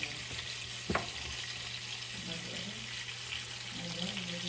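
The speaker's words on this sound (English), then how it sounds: "I'm going to try to fry up a whole piece of onion" A whole piece of onion and burger patties fry in a pan with a steady, faint sizzle, with a brief clatter near the start and light kitchen noise.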